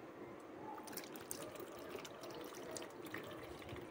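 Water drains from freshly cooked macaroni for a macaroni salad, a steady soft pouring and splashing rush that holds at an even level without pause.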